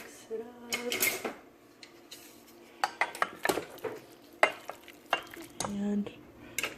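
Chicken stir fry ingredients get mixed in a bowl or pan with a close series of clattering utensil knocks, scrapes and clinks in irregular bursts, under a faint background sizzle.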